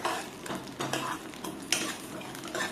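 Chana dal and urad dal fry with mustard seeds in hot oil, giving a steady crackling sizzle while a spoon scrapes and stirs the pan in rhythmic strokes.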